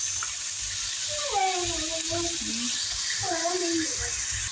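Water pours into a cooking pot of laksa with banana heart, a soft continuous splashing stream, fairly faint, while someone talks over it.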